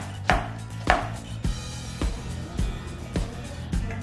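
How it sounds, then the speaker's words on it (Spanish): A knife chops a quarter onion on a board in steady, evenly spaced thuds, about seven firm strikes, close and clear with nothing else heard. "También vamos a picar 1/4 de cebolla."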